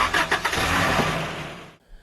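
A truck engine in Metal Gear Solid Portable Ops cranks with a few quick turnover pulses, then catches into a loud steady roar before cutting off abruptly.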